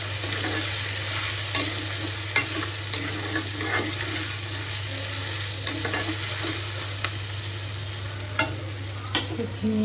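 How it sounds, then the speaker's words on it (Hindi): Mutton frying in ginger, garlic and onion paste, a steady close sizzle with occasional stirring clinks and scrapes throughout, no voices. "मटन ऑलमोस्ट फ्राई हो गया"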